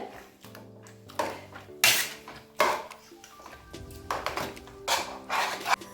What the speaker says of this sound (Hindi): अभी हम पोटैटो मैशर से इसको अच्छे से मिक्स और कर देंगे।